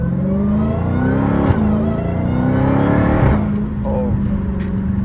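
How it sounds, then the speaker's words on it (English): Dodge Challenger Hellcat Redeye accelerating, its exhaust roar and supercharger whine climbing in pitch, shifting around mid-clip, then settling into a steady drone, loud and close from inside the car. "I need to make this exhaust way louder"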